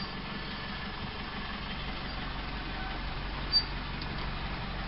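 A lorry engine idles close by in a low, steady rumble that continues unchanged throughout, with one brief knock near the end.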